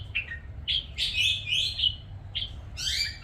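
Several bulbuls sing in bright, close chirping phrases, with short bursts separated by brief pauses over a low steady background hum.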